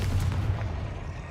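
Spell blast from the Confringo fire curse in the Hogwarts Legacy video game, a dense low booming burst that rumbles steadily for over a second, loud and close with no talk.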